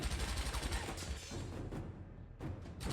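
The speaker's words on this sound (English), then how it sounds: "Oh, gunfire! Gunfire!" Gunfire in a Westworld episode crackles in rapid bursts of overlapping shots, dense and sustained at first and then thinning into scattered reports, heard at low level with no talk over it.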